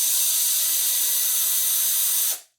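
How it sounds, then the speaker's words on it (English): Screws being backed out of an ECX Torment RC truck make a steady, close mechanical whir that runs unbroken for about two seconds, then cuts off abruptly. "So let's pop these screws out and we'll see what we got messed up."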